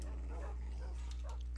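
Several dogs bark and yip in a room, a noisy pack sound under someone talking, with a steady low hum running throughout.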